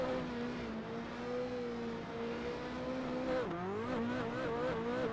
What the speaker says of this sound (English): The car actually started sliding left and right.